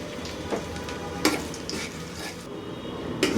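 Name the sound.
garlic frying in hot mustard oil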